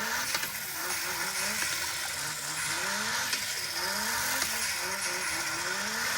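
A small DR!FT Racer remote-control car driven from a Bluetooth controller whines with a synthetic engine tone that rises and falls in repeated revving sweeps, steady and close throughout.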